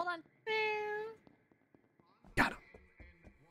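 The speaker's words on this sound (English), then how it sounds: "I hear a kitty cat" A cat meows in a short harmonic call inside an Among Us game session, with a brief impact thunk and scattered clicks and noises around it.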